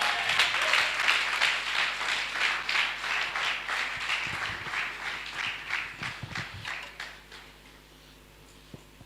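A church congregation applauding to acclaim the Lord, with dense, loud clapping that holds steady and then gradually thins and fades into a few scattered claps.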